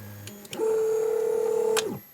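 A DAJA DJ6 laser engraver powers on, giving a few short clicks, then a single loud, steady electronic beep held for over a second before it stops sharply.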